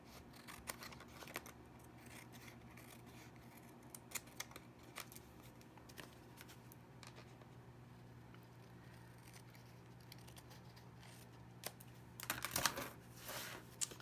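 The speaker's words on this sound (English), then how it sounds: "now you're just going to cut out around that flap" Scissors snipping around the flap of a handmade paper envelope at a crafting table, a steady run of small quiet cuts with a louder burst of rustling and snipping near the end, no talk.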